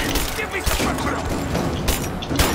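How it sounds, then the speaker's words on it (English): Dense bursts of gunfire in the video game Rise of the Tomb Raider crackle and pop continuously, rapid overlapping shots with occasional louder booms, loud and close. "Gunshots, not good."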